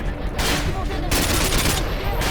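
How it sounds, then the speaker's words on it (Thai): Loud, continuous gunfire in Call of Duty Modern Warfare 2, a dense fusillade of rapid shots with no break for the whole moment. "โอ้โหมันยิงไม่หย่อน"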